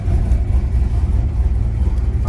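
A 1996 Camaro's cammed LT1 V8 idles loud and close, with a choppy, lumpy rumble that pulses steadily throughout.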